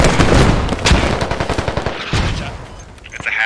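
Rapid automatic gunfire from a video game squad assault on enemy fortifications: loud, close bursts of shots crackling almost nonstop, easing slightly near the end before picking up again.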